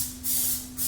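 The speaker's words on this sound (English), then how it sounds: "I don't know if you can tell by the sound of the spray" Two short hissing bursts of a Plasti Dip aerosol spray can, sharp and close, separated by a brief pause.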